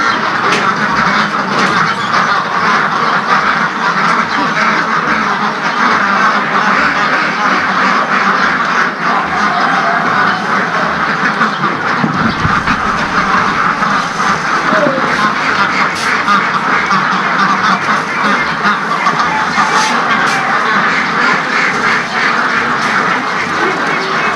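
A crowd of Pekin ducks quacks continuously at a livestock market, loud, dense and close, with voices faintly mixed in.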